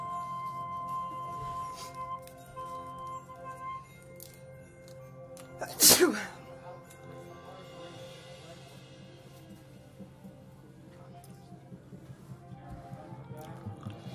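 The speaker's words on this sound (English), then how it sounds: "Excuse me, had to sneeze." A single sharp sneeze bursts out midway through an otherwise quiet stretch with faint background hum.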